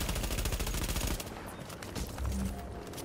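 Shotgun blasts from The Division video game, a rapid burst of loud repeated gunfire for the first second or so, then quieter scattered game noise with another thump near the end.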